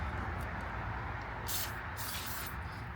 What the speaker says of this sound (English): I'm just going to spray this a little bit and wipe it off